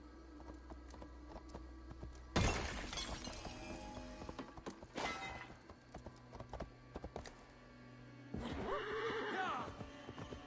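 A horse neighs and its hooves clatter in Assassin's Creed Valhalla on PS5, with a sudden loud crash and whinny early on, quieter hoofbeats in the middle, and a second whinny near the end.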